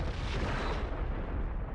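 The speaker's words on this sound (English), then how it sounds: "The big explosion." A big explosion in the Stellaris space strategy game booms out as a single loud, rumbling blast that fills the short moment without fading.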